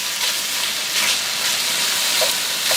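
Ground lamb browns in a hot pan with no added oil, giving a steady, close, crackling sizzle with bursts of stirring and spitting fat.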